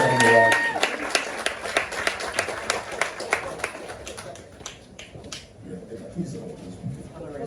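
Audience applause at a book chat event honouring Mrs Kuti, loud and dense at first, then thinning to scattered individual claps that fade out over several seconds.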